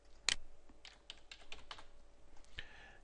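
A word typed on a computer keyboard: a sharp initial key strike followed by a quick run of light, close clicks, ending with a firmer tap, with no talking.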